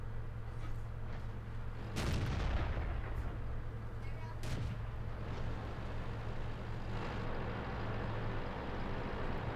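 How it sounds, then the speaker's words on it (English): Tank cannon fire in the video game World of Tanks, a heavy booming shot that rings out over a steady engine rumble, with a second sharp report a few seconds later. "oh no, I just shot my teammate as he pulled in front of me as I shot"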